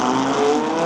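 A Dodge Viper race car accelerates hard on a track, a loud, close, gritty engine roar filling the whole brief moment.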